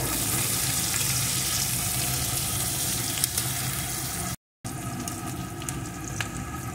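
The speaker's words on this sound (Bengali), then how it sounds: "পেঁয়াজ কুচিটাও একটু ভেজে নেব" Chopped onion fries in hot oil in a pan, giving a steady, fairly loud crackling sizzle with occasional stirring taps and a brief cut to silence partway through.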